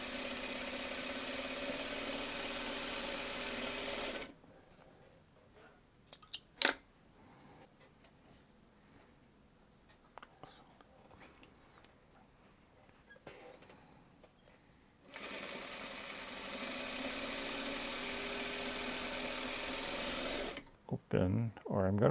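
A sewing machine stitches a quilt block in two long steady whirring runs, close and loud, separated by a quieter stretch of handling noise and brief clicks.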